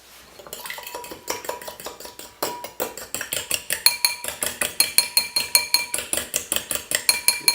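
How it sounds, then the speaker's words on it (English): Olive oil is whisked into an egg mixture for homemade Italian-style pasta, with a utensil clinking steadily against a bowl in quick rhythmic strokes that grow louder and faster, alone and close. "mix it in with the egg mixture"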